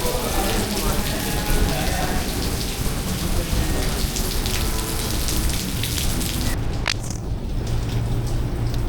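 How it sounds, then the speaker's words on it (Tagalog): Steady rain falls outdoors in Pasig, a dense, even hiss of drops on surfaces that continues loud throughout and briefly thins near the end. "So yun, umuulan lang."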